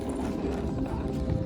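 Horse hooves clip-clop steadily beneath a rider during a riding lesson, the hoofbeats loud and close over a continuous low rumble, with a brief whinny-like tone possible.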